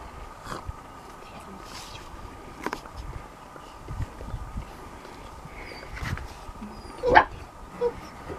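A dog barks and whimpers in short, scattered yips and sharp barks at moderate distance, with a louder bark burst near the end and voices talking in the background.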